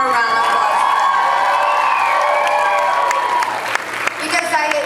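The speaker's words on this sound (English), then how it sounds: "I think we should all actually have one more round of applause." An audience at a charity fashion show gives a round of applause, a dense wash of clapping with cheers, whoops and crowd voices, fading toward the end.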